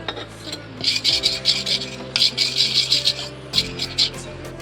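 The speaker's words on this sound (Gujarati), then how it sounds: "હવે આમાં પાણી ઉમેરીને બધું સરસ મિક્સ કરી લઈશું." A spoon scrapes and stirs khaman batter with added water in a bowl, giving rhythmic rasping strokes in short bursts with brief pauses, close and fairly loud.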